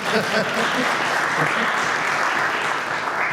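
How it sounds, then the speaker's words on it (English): An audience at a live talk in Austin, Texas claps steadily for about three seconds, a dense, even wash of applause with a few voices faintly mixed in. "Yes, clap, please."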